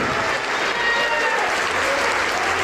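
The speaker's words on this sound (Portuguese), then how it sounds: "Vamos aplaudir ao Senhor Jesus por cada vida que está chegando." A church congregation applauding during a Portuguese-language sermon, a steady, dense wash of clapping from a large crowd that holds evenly throughout, with faint voices mixed in.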